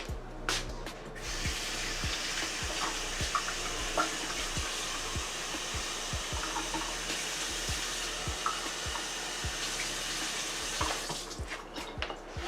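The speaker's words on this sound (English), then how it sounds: "so now I'm going to put some water halfway" Water running from a tap to fill a Ninja blender for a fruit smoothie, a steady close hissing rush with repeated low thumps throughout that stops at the end.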